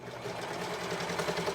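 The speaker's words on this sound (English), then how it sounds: "now I'm going to sew that curved pocket pouch to have the pockets" A sewing machine sews a curved pocket pouch onto French terry knit shorts, giving a brief, quiet, steady mechanical hum with a fast running pulse.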